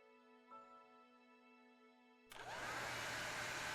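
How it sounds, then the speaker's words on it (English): In the video game Lover Pretend, a hair dryer switches on partway through and blows with a steady, loud, broad whoosh, following a quieter humming tone. "he used a hairdryer to give my hair some volume"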